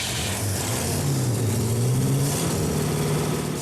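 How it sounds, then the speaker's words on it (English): An old scavenged Packard engine, long seized and rusty, runs steadily close by with a low, rough mid-pitched drone that swells slightly in the middle and holds on without pause. "ready to fire up the old scavenged Packard engine"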